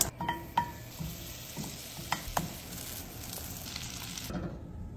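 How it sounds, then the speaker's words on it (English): Unsalted butter browning in a pan, a steady soft sizzle with occasional light scrapes and clicks of stirring, moderately quiet, with no speech. "It's time. Let's brown some butter."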